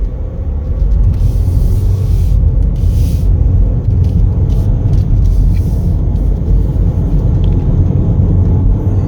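A 2020 Chevrolet Equinox LS on a test drive gives a steady, close low rumble of road and engine noise throughout, with no talking.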